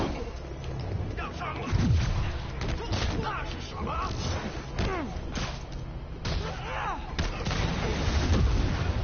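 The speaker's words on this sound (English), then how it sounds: "Ow, stop hitting me with rockets!" Rockets explode repeatedly in the Spider-Man PS4 video game, a string of booms, whooshes and impacts in uneven succession with combat effects layered on top, while someone talks over it.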